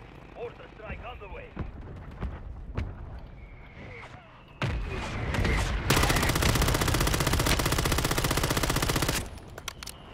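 Call of Duty gunfire: scattered sharp shots and clicks early, then a loud sustained burst of rapid automatic fire lasting several seconds before cutting off, with a voice heard briefly at the start.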